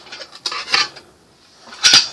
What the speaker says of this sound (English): So you have your large frying pan, your small frying pan.